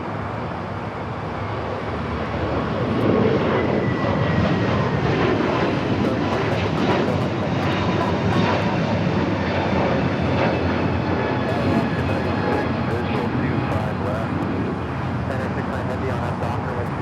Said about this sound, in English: Flight 2070 heading to Newark and an A321neo.